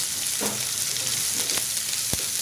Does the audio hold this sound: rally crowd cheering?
no